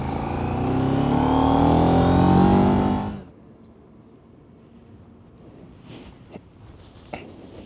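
KTM 990 Duke parallel-twin motorcycle engine revs loud and close with a rising, throaty drone for about three seconds, then cuts off abruptly, leaving quiet background with a couple of faint clicks.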